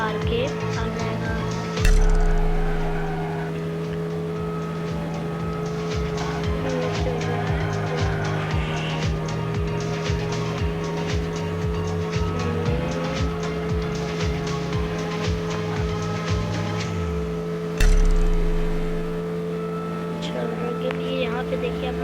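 A formula racing car engine runs in a racing video game as a steady, sustained drone with gear-shift changes and a couple of louder bursts, while someone talks over it.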